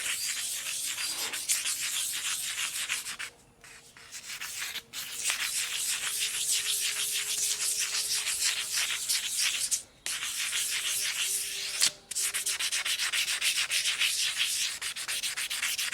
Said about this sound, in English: Water and then sanding again.